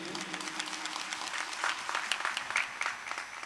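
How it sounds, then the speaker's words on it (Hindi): An audience claps at a Shrimad Bhagavat Katha religious discourse, the steady applause filling the room moderately loud throughout with no speech over it. "एक बार पुनः तालियां"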